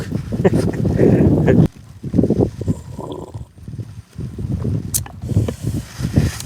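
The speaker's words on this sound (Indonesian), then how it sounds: "Anginnya gila gede banget ya, gelebug." Strong wind buffets the microphone at a riverside fishing spot beside swollen water, coming in loud gusty bursts that drop away and return, with a voice faintly underneath.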